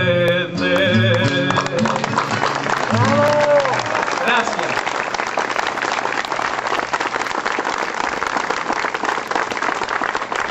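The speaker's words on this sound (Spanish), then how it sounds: "Fuerte el aplauso para Cristian Méndez." Audience applause for a payador at a live performance of Argentine and Cuban improvised folk verse, starting after a brief voice and music, then sustained loud clapping from a crowd.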